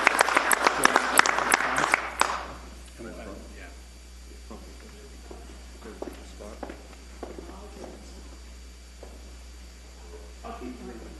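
A meeting room audience gives a burst of loud clapping for about two seconds, honouring a family, which then fades into shuffling footsteps and quieter movement.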